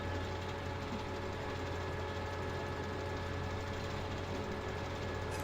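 A tractor engine idles steadily in a farming video game, a low, even mechanical drone with a constant hum and faint rattle, unchanging throughout.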